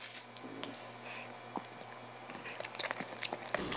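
Someone takes a bite of ahi poke mixed with imitation crab, green onion, spicy sauce and furikake, giving soft wet squishes and a few sharper crunchy clicks of chewing, close to the mic and growing busier toward the end, with no talking.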